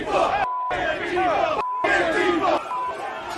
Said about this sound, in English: the crowd of economically anxious insurrectionists advanced on the